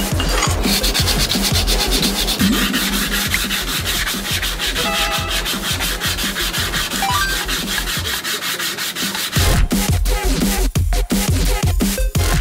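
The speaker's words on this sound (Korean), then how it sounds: "줄로 다시 긁어내고 사포도 더 거친 거 사다가 싹 다 밀어내고 다시 합시다." A knife blade is worked with a file and coarse sandpaper, giving a loud, continuous rhythmic rasping and scraping of repeated strokes, close by and with no talking.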